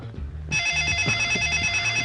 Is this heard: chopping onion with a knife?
no